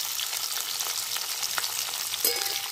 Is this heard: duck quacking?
no